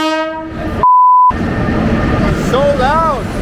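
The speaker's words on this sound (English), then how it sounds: "No one really knows when the train is coming." A cheap Indian passenger train pulls into a station, its loud horn sounding in a long steady blast, with rumbling carriages and a busy crowd of voices around it.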